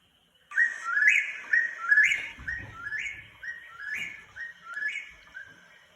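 Whippoorwill calls recorded outside a cabin gazebo, a run of about nine clear whistled phrases repeating in a steady rhythm, fairly close against a quiet background.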